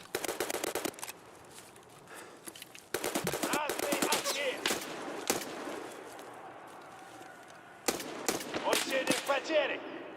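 Gunfire from a scoped enemy during a video game raid: several loud automatic bursts of sharp cracks, separated by quieter stretches, with a voice speaking in between.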